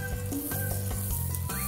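Broccoli sizzling in hot butter in a pan in a home kitchen while making chicken broccoli curry, a dense continuous frying crackle, close and steady, with no talk.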